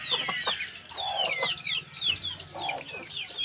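A short-nose long-tail hen clucks repeatedly up close, with a rapid string of squawks and chirping calls from several fowl overlapping throughout.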